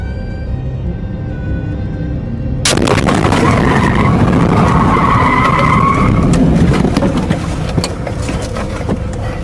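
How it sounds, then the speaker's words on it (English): A car launches over a highway median and slams into the front left side of a police cruiser, heard from inside the cruiser as a sudden loud impact followed by sustained scraping, grinding and skidding. "another car suddenly launches over the median and slams into the front left side of his cruiser"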